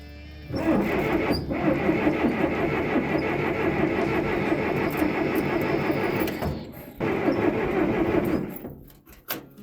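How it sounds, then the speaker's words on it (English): A 1960s backhoe engine with a leaking fuel bowl cranks over steadily with a whirring starter and does not catch, running loud and close for about six seconds, pausing briefly, then cranking again before stopping. "But let's try and start it nonetheless."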